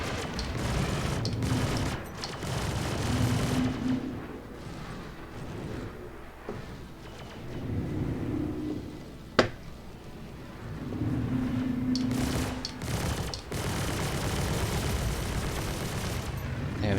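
Spaceship weapons fire in bursts during a player-versus-player dogfight in the game Star Citizen, flown in a Raptor. The rapid, crackling volleys come in several waves over a steady engine rumble, with one sharp, isolated crack midway.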